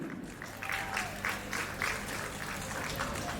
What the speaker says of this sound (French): applaudissez-la très bien